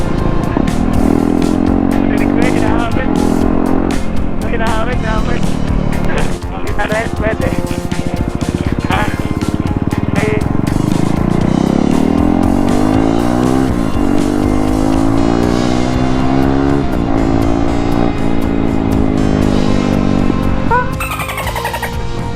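The engine of a KTM RC 390 sport motorcycle drones loudly throughout a ride, its pitch rising and falling with throttle and gear changes. Wind rush is constant, and the rider's excited speech is faintly mixed in.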